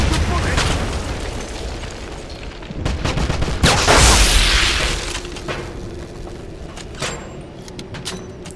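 A grenade explodes in the 2009 Wolfenstein video game, a heavy booming blast midway through amid rumbling game noise and scattered sharp impacts.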